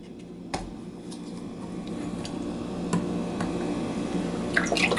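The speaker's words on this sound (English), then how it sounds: "So we'll give it a pour into there." Dragonfire Punch poured into a highball glass, a steady close trickle of liquid with a few clinks and drips, rising slightly as the glass fills, with no talk.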